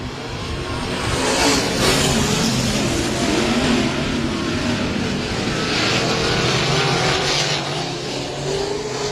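Sprint cars in a Bandit Outlaw Sprint Series heat race roar around the dirt track at Heart O' Texas Speedway, a loud, continuous engine drone with rising and falling passes.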